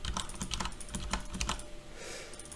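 Computer mouse clicks during editing work in Lumion and After Effects: a fast, irregular run of sharp, close clicks that thins into a softer, smoother stretch near the end, with no talk.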